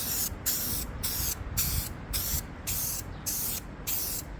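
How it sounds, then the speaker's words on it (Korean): Repeated short bursts of aerosol spray paint hissing onto a car head unit cover, about eight pulses in a steady rhythm, close and fairly loud. "골고루 분사되는 게 페인트 칠에는 가장 원하는 양을 골고루 칠하는 거"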